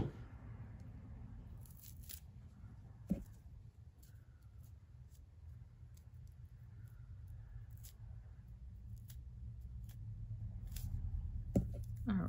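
Scissors snipping fuse lengths into three equal pieces for a craft project: a few faint, sharp clicks and snips stand out over a quiet, steady background hum, with no talking.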